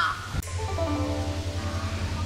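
A bird, probably a crow, gives a single short call outdoors on a windy hillside, heard against steady wind and a low background hum.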